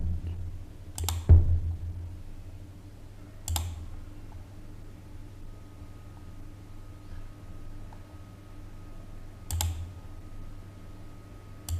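A computer mouse clicks during SolidWorks modelling work, a few sharp isolated clicks spaced several seconds apart over a quiet room hum, with no talking.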